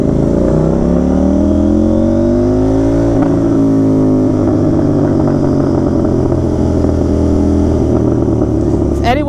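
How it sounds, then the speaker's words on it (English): A KTM Duke 790 motorcycle with an Austin Racing exhaust and quickshifter revs loudly up close, its pitch climbing and dropping through gear changes at night, with a rider talking over it. "If anyone says this bike isn't loud, they're lying."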